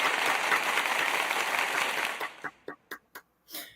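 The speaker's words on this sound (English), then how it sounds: "Let's have a round of applause for the England women's" Crowd applause for the England women's team after their Rugby World Cup win, a dense sustained clatter that thins into a few scattered late claps and fades out.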